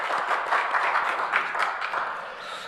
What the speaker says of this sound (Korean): 하나님께 영광의 박수하겠습니다.